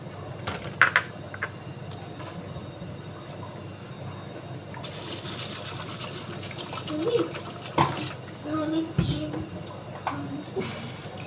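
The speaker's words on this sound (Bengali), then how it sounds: "সাবুটাকে এবার আমি ভালো করে ধোবো।" Sago pearls are washed in a bowl of water by hand, a steady wet sloshing and swirling with occasional bowl clinks throughout, while someone talks over it.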